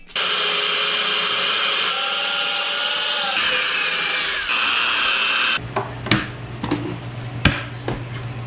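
A power drill bores holes into the body of an Audi A3, a loud sustained whine lasting several seconds that shifts pitch, followed by lower grinding bursts and sharp knocks.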